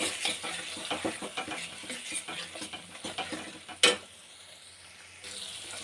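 Dry spices and a splash of water frying in oil in a pan while cooking a Bengali fish curry with potato and coriander, heard as a steady close sizzle with stirring clatters and one sharp utensil knock.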